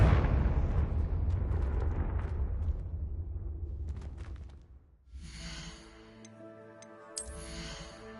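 A Confringo blasting spell exploding in Hogwarts Legacy: a loud, broad blast that rumbles and decays over several seconds, followed by quieter shimmering magical tones and a small second flare.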